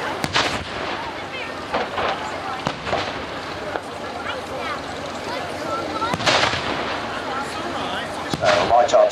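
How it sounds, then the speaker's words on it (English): A British light artillery field gun fires during a battle reenactment at the Victory Show, with several loud, sharp bangs and booms at uneven intervals over crowd noise and background talk. "British light artillery. Just the most fantastic field gun could be brought into position, set up very, very quickly indeed. As you can see, it makes an incredible bang"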